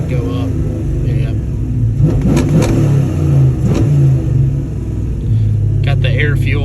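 A truck with a swapped 6.0 engine, a Cateye, revs up loudly from a steady low idle rumble into a rising roar, heard close from inside the cab, with a voice speaking over the engine.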